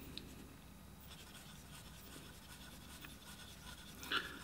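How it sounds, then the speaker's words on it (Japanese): A Delta Dolce Vita piston-filling fountain pen scratches across rough, textured envelope paper in faint, continuous, close strokes, with a slightly louder scrape near the end. "紙がザラザラしてるからペンの音がね多分ねそちらにも届いてると思うんですけれどもね、もうバリバリバリバリカリカリカリカリいますね。"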